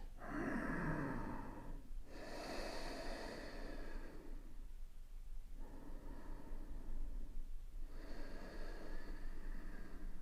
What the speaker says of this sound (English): And just breathe, Ujjayi.